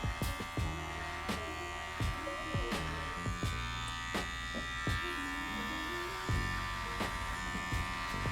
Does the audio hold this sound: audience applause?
no